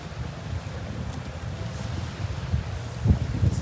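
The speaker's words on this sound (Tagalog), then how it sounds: "Amihan pa rin ang hangin." Steady northeast monsoon wind rushes and buffets outdoors on Boracay beach, with low rumbling gusts and a few louder thumps toward the end, no voices.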